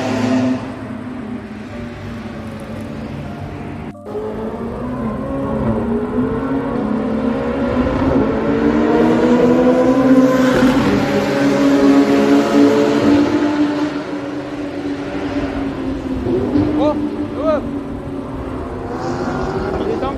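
A Porsche GT3 engine revs and climbs at a tire-burning car event, a loud, sustained rising howl that swells and fades as it passes near.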